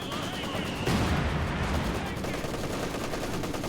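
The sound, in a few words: machine gun and barrage fire in the video game Company of Heroes 2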